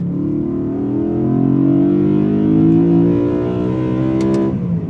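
BMW E92 M3 V8 engine revving high while driving, a loud rising harmonic wail climbing steadily through the revs before a brief drop near the end, heard from inside the car with no talk.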